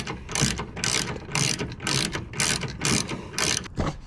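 Ratchet wrench tightening tailgate bolts on a 2020 Jeep Gladiator, about seven evenly spaced bursts of rapid clicking in a steady back-and-forth rhythm, close and clear with no voices.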